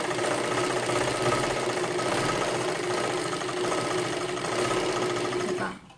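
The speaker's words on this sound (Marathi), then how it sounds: "परत एकदा एक डबल शिलाई मारा" A sewing machine runs steadily while sewing a double stitch on a size 36 princess-cut blouse, its close, continuous rattling hum holding for almost the whole span before cutting off near the end.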